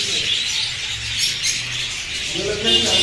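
Doves, the ghughu birds at a bird shop, give soft coos with chirps and wing flutters close by, under a murmur of people talking.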